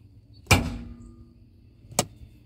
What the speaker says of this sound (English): That noise is your hood releasing.